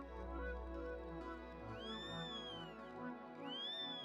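Several kittens meowing loudly and insistently, with drawn-out rising-and-falling cries that repeat over a low hum of background music.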